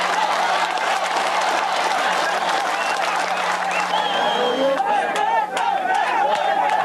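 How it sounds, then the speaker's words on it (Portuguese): A large football crowd in a stadium roars and chants a player's name, a constant dense wall of massed voices with clapping mixed in, loud and unbroken throughout. "A torcida grita o nome dele."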